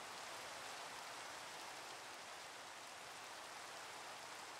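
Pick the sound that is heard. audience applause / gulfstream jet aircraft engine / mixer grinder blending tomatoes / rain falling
rain falling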